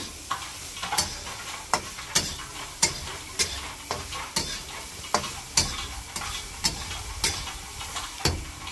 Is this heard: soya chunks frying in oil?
yes